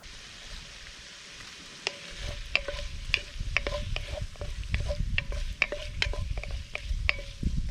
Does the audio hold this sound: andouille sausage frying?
yes